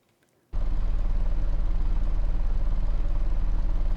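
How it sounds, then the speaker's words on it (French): A car engine idles at low revs in the 1998 PlayStation racing game Gran Turismo, starting abruptly after a brief silence, then holding a steady, raspy, low rumble, loud and close with no voices. "Le moteur Rauque à bas régime."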